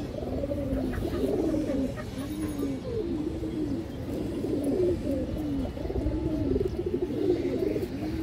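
Giribaz pigeons, including a green-tinted Sabji Giribaz, coo steadily in a loft, repeated low rolling calls overlapping for several seconds at close range.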